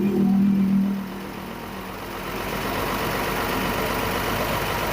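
A diesel engine with a back compression blowout fault idles steadily and fairly loud, with a heavy low rumble that eases after the first second and then holds an even running note.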